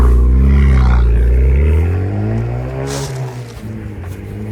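A Honda Civic Type R with a Remus exhaust and stage 1 tune revs hard up close, its loud engine note climbing and falling, then settling into a lower idle.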